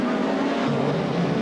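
A 1990 BTCC touring race car roars past close by, its engine note rising and shifting with some tyre noise, loud and continuous with a race commentator talking over it.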